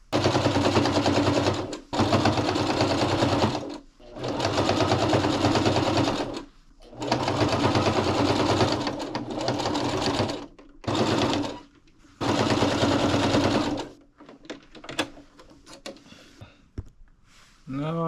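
A sewing machine stitches fabric bag pieces together for floral crossbody bags, running loud and close in several long bursts separated by brief pauses, then slowing into a few short stops at the end.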